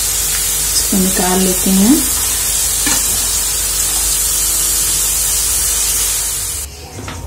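Potato pieces frying in hot oil for crispy honey chilli potatoes, a steady loud sizzle and hiss throughout that cuts off near the end, with a short spoken remark over it.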